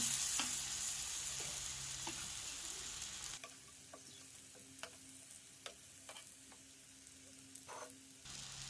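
Vegetables for a curd palya frying in a pan, a steady soft sizzle with scattered stirring clicks and scrapes, louder hiss in the first seconds then settling to a quieter crackle.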